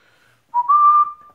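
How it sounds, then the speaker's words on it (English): A single whistle blown to call three-week-old Airedale Terrier puppies rings out loud and close, a short rising note that holds steady for about half a second, then fades in a quiet room. "they don't respond to the whistle yet."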